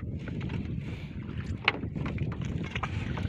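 Steady wind gusting across an open boat on the water during night fishing with nets, a continuous low rushing roar with brief buffeting peaks, close to the microphone and without speech.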